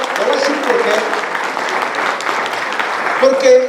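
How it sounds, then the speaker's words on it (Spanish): Church congregation applauding together, a steady dense clapping that fills the whole stretch, with a voice rising briefly near the end. "démosle un aplauso fuerte al Señor"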